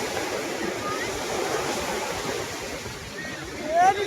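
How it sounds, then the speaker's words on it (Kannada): Sea waves wash in at Chennai beach, a steady broadband surf roar rising briefly louder near the end, with faint voices in the background. "ಸಮುದ್ರ ನೋಡಿ, ಇಲ್ಲಿ ಒಂದು ಕಾಲ ಹತ್ರ ನೀರು ಬರುತ್ತೆ, ಎಲ್ಲ ಪೂರ್ತಿ ನೀರು."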